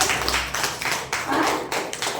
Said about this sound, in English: Clap to her.